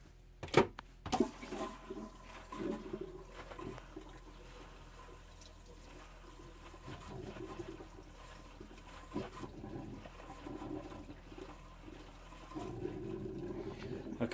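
Motorhome toilet flushing during winterizing: a sharp clunk of the flush mechanism, then a rushing, gurgling swirl of water that fades and rises again in bursts, close by in a small room.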